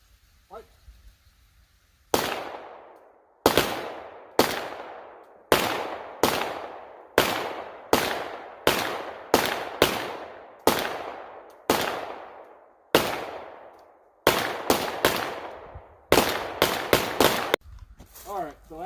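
Gunshots from PSA Dagger pistols during a head-to-head shooting match, about twenty loud, sharp reports in uneven bursts with short pauses, each decaying quickly outdoors, with brief talk before the firing starts.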